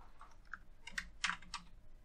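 Someone types a search keyword on a computer keyboard for keyword research: a short, faint run of clicking keystrokes, a few louder taps near the end, with no talking.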